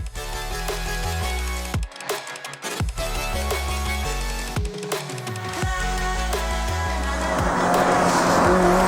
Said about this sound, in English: let's get in the STI and see how it compares